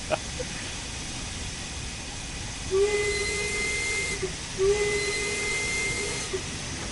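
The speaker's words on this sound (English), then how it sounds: "I don't know what the etiquette is on the whistle, by the way, in real life, but it sounds brilliant." Steam locomotive whistle from Train Sim World 2 (Spirit of Steam), sounding two clear sustained blasts, each about a second long, over a steady background hiss of steam and rolling train noise.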